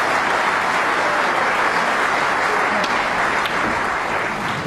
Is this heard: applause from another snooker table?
yes